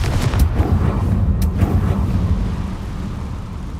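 A Confringo blasting spell erupts in Hogwarts Legacy, a loud booming burst followed by a rumbling roar that slowly fades over several seconds.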